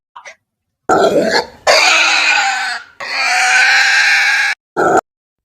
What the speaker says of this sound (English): So when you hear squealing like that